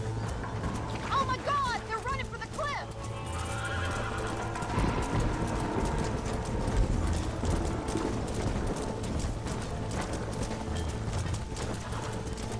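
A horse in the Western video game Red Dead Redemption whinnies in a rising, wavering neigh, then its hooves clip-clop in a quick, steady rhythm over a constant low game background, with a voice speaking alongside.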